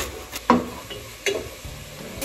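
Pasta stirred into a frying pan with butter: two distinct scraping clunks of a utensil against the pan, close and fairly quiet, with soft background noise between them and no voices.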